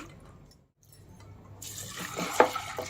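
Water is drained off soaked lentils before pressure cooking for Ugadi bobbatlu. A near-silent start gives way to a close, splashing pour that peaks with a sharp slosh and then trickles.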